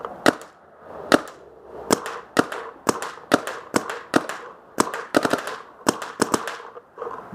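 RSX Shocker and Empire Vanquish 2.0 paintball markers fire a run of sharp, loud, close shots in an uneven rhythm, some in quick doubles and triples, with no voices.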